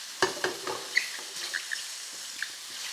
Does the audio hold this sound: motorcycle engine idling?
no